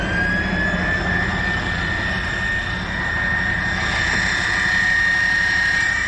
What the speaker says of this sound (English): That crane's so loud.